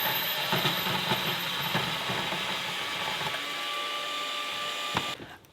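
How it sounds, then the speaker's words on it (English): A machine cuts steel for a hollow axe head, a steady, loud grinding whine that runs continuously for several seconds, then cuts off abruptly at the end. "I first need to cut down here in a straight line so that I can see the gap"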